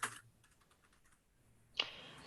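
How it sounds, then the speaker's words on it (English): Fast, light clicking of a sticky computer keyboard, a short burst of close taps in the middle flanked by louder rustling bursts at the start and near the end, faint and alone with no voices. "My keyboard is very sticky today."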